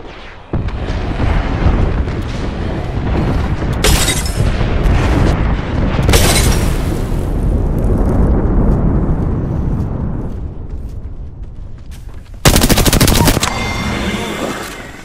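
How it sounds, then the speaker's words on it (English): Airstrike explosions in the battle royale game Apex Legends roll in as a long, loud barrage of booming blasts and rapid gunfire-like bursts, sustained for the whole stretch with sharp bright flares near the start, middle and end. "Airstrike."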